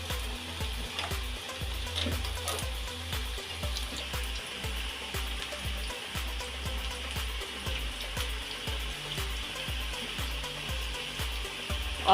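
Suji nimki, a semolina snack, frying in hot oil, giving a steady close sizzle with crackling bursts and a faint periodic low thump beneath, continuing unbroken without talk.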